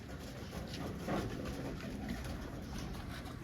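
A female black Chini pigeon, also called Kalanj, coos softly and low against steady background noise for a few seconds.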